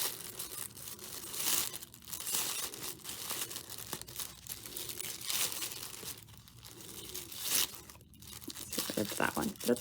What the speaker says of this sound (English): we're just gonna gently pull it up and separate it from the bottom 2 layers